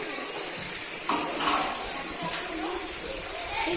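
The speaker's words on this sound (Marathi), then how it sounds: "हे ते पाणी बघा इथून येते" Steady rushing water pours continuously from a pipe into a village water storage tank, a broad gushing hiss with a faint voice in the background.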